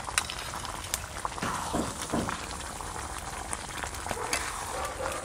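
Chicken kosha simmers and bubbles in a pan, stirred steadily as its water cooks off, with a continuous close sizzle and occasional soft scrapes and taps of the spoon.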